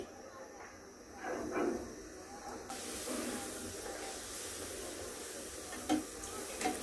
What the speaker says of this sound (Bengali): এদিকে আমি তেলটা গরম করে নিয়েছি। এখন লুচিগুলো দিয়ে দিব একটি একটি করে।